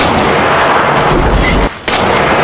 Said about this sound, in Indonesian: Mendengar suara tembakan,